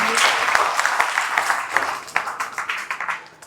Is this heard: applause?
yes